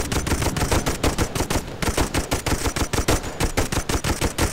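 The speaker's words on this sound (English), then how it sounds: "Oh, these are machine gunners," Machine gunners fire in the video game Toy Soldiers, set in the 1914 Langemarck campaign, in a loud, dense stream of rapid, evenly spaced shots that runs without pause the whole time, alone with no voices.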